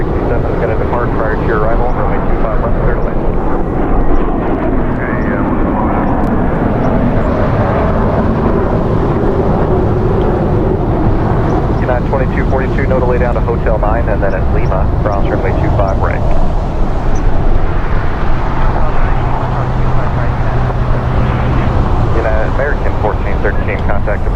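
A heavy Boeing 767 departs runway 25 Left at Los Angeles International Airport, its deep jet-engine roar rumbling steadily throughout while voices talk over it.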